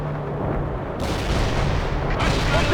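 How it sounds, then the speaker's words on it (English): Artillery strike explosions in World in Conflict hit as heavy, dense booms. Two sharp surges of blast noise land about a second apart over a continuous loud rumble of battle. "Artillery strike is inbound."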